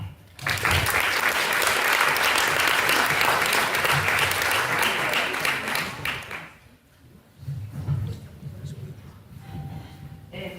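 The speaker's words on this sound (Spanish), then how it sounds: "Fuerte aplauso." A seated audience at a presentation in Nanclares de la Oca breaks into loud, sustained applause for about six seconds, then it fades to scattered room noise and faint murmurs.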